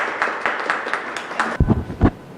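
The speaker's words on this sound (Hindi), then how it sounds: "तो प्लीज़ उनके लिए क्लैप कीजिएगा।" An audience applauding a speaker at a talk in Hindi and Urdu: a short burst of scattered claps repeating in a loose rhythm, followed by a few louder, closer claps near the end, with no talk over it.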